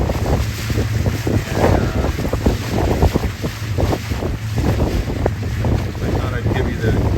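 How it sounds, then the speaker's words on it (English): Motorboat cruising on Lake Winnebago, a loud steady engine rumble mixed with heavy wind buffeting the microphone and repeated thumps and splashes of waves against the hull, with a brief spoken word near the start. "I thought I'd give you the exact sensation of what it's like to be out here on the river with all the bumps and waves"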